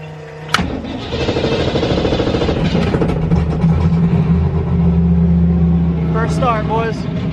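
A turbocharged Ford Mustang starts with a sharp crank and catches into a loud, steady idle that rumbles and rises into revs, with people talking over it near the end.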